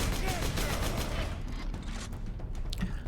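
Rapid video game gunfire, heavy automatic shots ripping through cover barriers in a third-person shooter, fairly loud and dense for the first half before thinning out, with someone talking over it.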